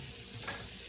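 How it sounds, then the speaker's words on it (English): Vegetables for a roasted curry ginger pumpkin soup fry in a pan, giving a steady, close sizzle with a soft swell midway and no talking. "Now you're gonna cook these until they get a little bit of color on them."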